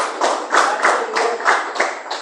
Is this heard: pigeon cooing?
no